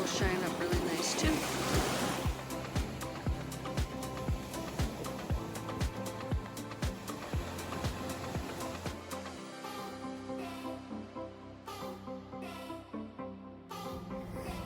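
Waves breaking on the Lake Superior beach at Grand Marais, Michigan, a steady, fairly distant wash of surf that rolls on without pause.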